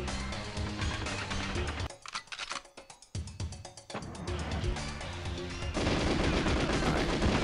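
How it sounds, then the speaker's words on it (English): Rapid gunfire from the Nintendo 64 game GoldenEye, bursts of automatic shots and single reports over game music and effects, loud and dense with a short lull midway. "Alright, let me try to shoot Xenia here. We must shoot him first"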